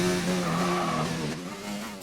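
An F1 car braking hard at Monaco in a racing video game, its engine tone dropping through sliding pitches as the car slows, loud and continuous, with a slight tire-scrub texture.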